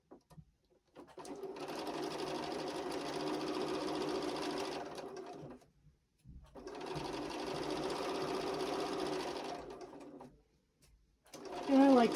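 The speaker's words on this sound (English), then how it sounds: "And then we're going to stitch a 1/4 inch down." A sewing machine stitches quilt fabric in two long steady runs of rapid whirring, close and fairly quiet, separated by a brief pause, with a short voice at the very end.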